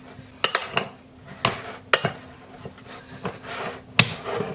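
A spoon scrapes and knocks around a bowl while butter, brown sugar and Meat Church Texas sugar rub are mixed, giving a series of sharp clinks and rough scraping strokes with short pauses, close and clear with no talking.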